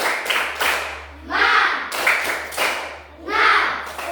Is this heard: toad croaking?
no